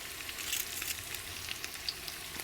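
Lemongrass frying in hot oil in a pan, a steady close crackling sizzle with scattered pops and no talk.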